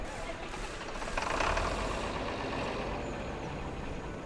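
A modded John Deere vehicle engine in Farming Simulator 25 drones at an even, fairly faint idle-like rumble, with a slight swell partway through and no talking.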